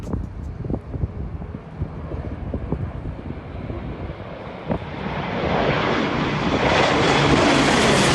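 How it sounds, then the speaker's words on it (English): A low-flying airplane banks in a sharp turn, its roar building steadily from a moderate rumble to a loud, broad, wind-buffeted rush over about eight seconds, with no voices. "This plane flying low in a really sharp turn."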